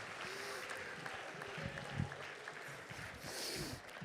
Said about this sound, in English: You should give that the round of applause.